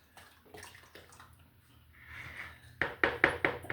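Melted homemade soap mixture is poured from a pot into a loaf pan, making a soft, thick liquid trickle and splash. It ends with a few louder clinks and knocks of the pot against the pan.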